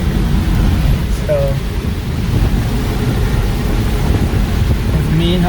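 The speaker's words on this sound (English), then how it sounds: "we have some wind is blowing, some trees are blowing already up there" Steady, roaring wind sweeps through trees near a main highway in Groveland, Florida, as Hurricane Ian arrives, a continuous rushing noise that sounds close, with gusts buffeting the microphone.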